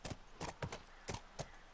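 A horse's hooves clop up stairs in the video game The Last of Us Remastered. About six quick, quiet hoof strikes land in an uneven rhythm.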